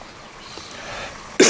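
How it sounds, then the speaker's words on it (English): A person coughs and gags, erupting in one sudden, loud harsh burst at the very end after a quiet stretch. "you guys can see me like gagging and coughing right now"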